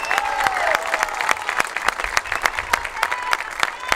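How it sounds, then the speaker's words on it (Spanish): A crowd at a Partido Verde community meeting claps for Hugo Pérez, with sharp, uneven handclaps and brief cheers or whistles rising over a murmuring audience. "Vamos a brindarle un fuerte aplauso a Hugo Pérez."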